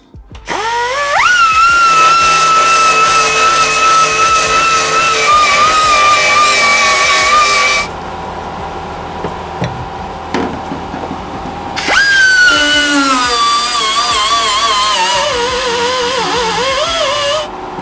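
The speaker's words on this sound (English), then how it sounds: "Belt sander, or the air-powered die grinder with a flat disc attachment." An air-powered die grinder with a flat disc attachment grinds off a metal bulkhead strip in a van, a loud, sustained high whine in two long bursts separated by a few seconds of quieter handling noise.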